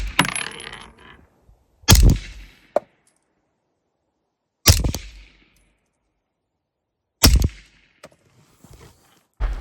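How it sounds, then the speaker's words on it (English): Pistol shots fired at a line of cans during an accuracy test, three sharp loud cracks spaced a few seconds apart, each followed by a faint metallic ping or rattle, with quiet between. "5 more rounds just to confirm that this thing is throwing them to the right"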